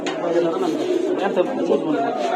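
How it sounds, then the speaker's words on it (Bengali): Pigeons in a pigeon shop give soft, continuous throaty cooing, close by and dense, overlapping with voices in the background. "এখানে খুব কালারফুল কবুতর দেখতে পাচ্ছি"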